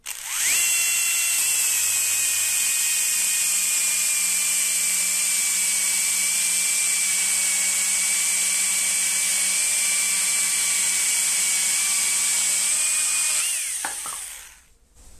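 A Husqvarna telescopic battery pole saw runs at half power with a steady, loud, high-pitched whine held for about thirteen seconds, then spins down and stops.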